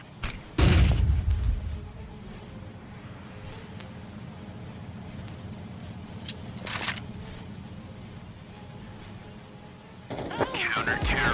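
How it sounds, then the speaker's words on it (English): A flashbang grenade goes off in a round-based shooter with counter-terrorist teams. A sharp, loud low blast comes early, then quieter in-game clicks, shots and clatter continue, and the sound swells again near the end. "Throwing flashbang."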